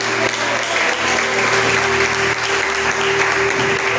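Congregation clapping during a church service, loud continuous applause with a steady low hum from the sound system underneath.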